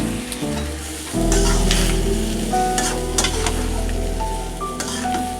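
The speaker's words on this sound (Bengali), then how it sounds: "ভালোভাবে একটু নেড়ে চেড়ে দিলাম, মিশে ভালো করে।" Gourd and chickpea bhaji stir-fried in a pan with a fried egg and spice paste, a steady close sizzle with scraping and stirring noises throughout, and no talking.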